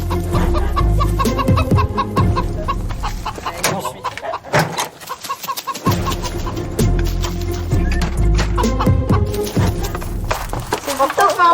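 Chickens cluck in a henhouse with a dense, continuous stream of loud, close clucking. The clucking briefly thins out to a lull near the middle.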